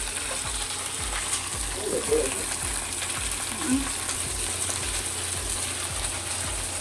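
A steady loud sizzle comes from cauliflower, eggplant, chilies and cabbage frying with spices in a pan, broken by regular scraping and stirring strokes.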